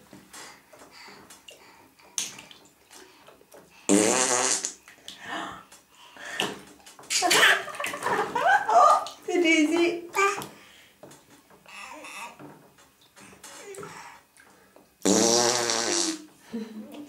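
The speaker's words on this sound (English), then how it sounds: "Did you feel a big raspberry?" A small child blows loud, wet raspberries while sitting in bath water, several sputtering bursts close by with a child's babble and an adult's voice in between.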